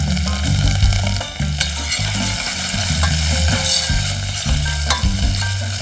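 Carrot, leek, celery and parsley fry in a pan while being stirred, giving a loud, close sizzle with repeated scraping and clattering strokes throughout.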